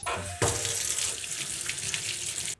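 A Dorito chip held under running tap water, the stream starting with a sudden rush and pouring steadily close by before cutting off abruptly near the end.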